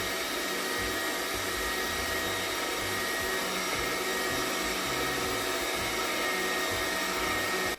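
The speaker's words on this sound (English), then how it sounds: "Switching on the machine and then dropping them into the center opening, letting the wings rotate them through the opening into the filter area." An AMZChef 1902B juicer runs steadily while orange cubes are fed through it, giving a continuous motor whir with a low, uneven churning underneath, close and unbroken for the whole stretch, with no talking.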